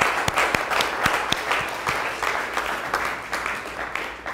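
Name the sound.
audience applause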